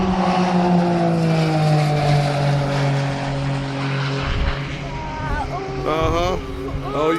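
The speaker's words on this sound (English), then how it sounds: "this is their first taste of a car going around at full speed" A race car at full speed on the Daytona Speedway oval, a loud engine roar sweeping past with a falling pitch, while people talk and react close by.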